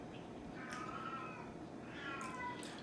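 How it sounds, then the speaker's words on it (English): A cat meows twice, drawn-out nasal cries close to the microphone over a quiet room hiss. "that's my cat"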